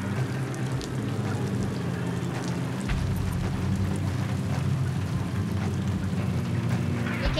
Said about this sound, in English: Trying to get out of this rain.